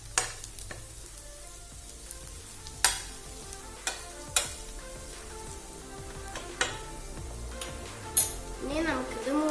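Ripe tomatoes, cut large, frying in a pan and stirred with sharp spoon scrapes and knocks at irregular intervals over a soft sizzle, close, with faint talk.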